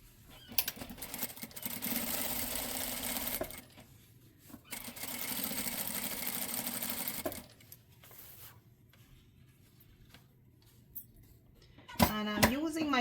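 Two long, even runs of a sewing machine top stitching a blouse seam, each a few seconds, separated by a pause, followed by a short clatter near the end.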